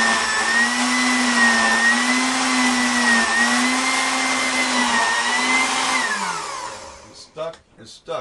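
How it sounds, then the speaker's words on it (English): A Vitamix blender packed full of romaine runs at a loud, steady high whine with a constant motor drone, then winds down and stops near the end as brief sounds follow. "I stuffed my blender full a second time with as much romaine as I could get in there."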